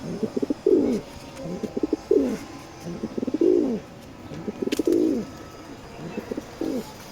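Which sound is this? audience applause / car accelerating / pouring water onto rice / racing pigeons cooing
racing pigeons cooing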